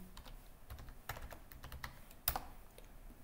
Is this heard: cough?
no